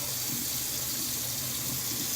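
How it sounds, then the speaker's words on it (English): Cold tap water runs steadily to rinse a Dovo straight razor, a continuous close hiss of flowing water at an even level. "cold water rinse on the Dovo."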